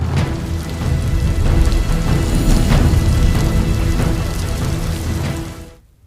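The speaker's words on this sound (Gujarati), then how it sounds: "કચ્છના રાપરમાં મુશળધાર 13 ઇંચ વરસાદ વરસ્યો છે।" Torrential downpour in Rapar, Kutch, a dense, loud, steady roar of heavy rain on surfaces, with scattered sharper drop impacts throughout, before cutting off abruptly near the end.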